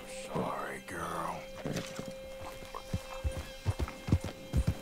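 Horse in Red Dead Redemption 2, an Arabian being fed a carrot: a whinny and snorts near the start, then soft hoof clops and shuffling steps close by, with quiet breathy sounds.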